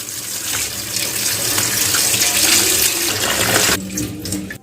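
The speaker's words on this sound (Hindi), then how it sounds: "अब हम इसको पानी गिरा देंगे इसके ऊपर" Water pouring steadily from a tap over drained boiled macaroni in a strainer, a loud continuous splashing rush that runs several seconds before abruptly easing.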